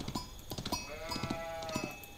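Several sheep bleat in the Age of Empires 4 strategy game, wavering calls overlapping near the middle amid soft clicking game effects, fairly quiet with no speech.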